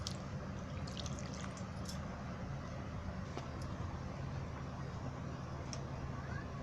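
Water poured over curdled milk held in a cotton cloth in a sieve while making rasgulla, a continuous close splashing and trickling with scattered drips throughout.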